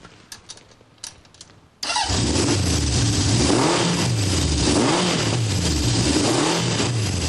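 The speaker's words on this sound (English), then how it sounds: "This is my 1970 750 Honda. I've had it for many, many years now. I'm going to start it up for you." A 1970 Honda CB750 inline-four motorcycle cranks briefly after a few quiet clicks, then catches and runs loudly up close, with repeated rising and falling revs over a steady rough idle.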